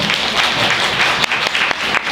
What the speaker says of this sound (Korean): 우리 이영호 원장님한테 큰 박수 한번 부탁드리고요